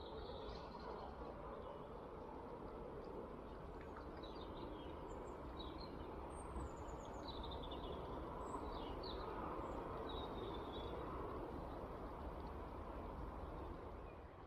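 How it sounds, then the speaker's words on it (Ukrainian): Birds sing in the evening at a lake in a forest, with short chirping phrases repeated throughout over a steady wash of background noise; no one speaks. "Так гарно пташки почали співати вечором."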